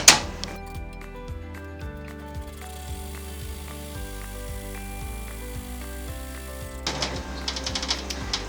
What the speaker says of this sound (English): we're going to put it back into the machine and we're going to stitch out a zigzag stitch